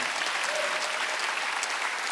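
A congregation claps during a Wednesday worship service at a Korean church, producing a dense, even, hissing patter of many hands with no pauses over the short stretch.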